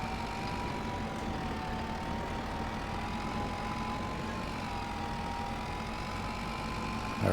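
A tractor engine running at a steady low hum while driving through grass on a farm, continuous and fairly faint, with no talking over it.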